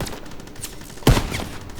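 A brief burst of machine gun fire in a Normandy landing war video game, one sharp loud volley cutting through a low background din.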